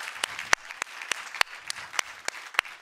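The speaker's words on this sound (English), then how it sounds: "Give him a round of applause." A small audience at a university session claps for someone, sparse and distinct hand claps in an uneven rhythm, fairly close and clear, with no voices.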